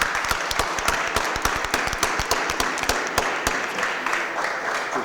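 An audience claps loudly and steadily throughout a round of applause for a filmmaker, dense hand claps close by with no pauses.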